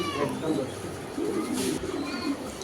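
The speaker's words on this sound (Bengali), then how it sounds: "কবুতর তো সেটা বুঝলাম ব্ল্যাক রেসার কবুতর" Black racer pigeons coo in soft, rounded, repeated calls close by. A steady background murmur of voices and ambient noise runs underneath them.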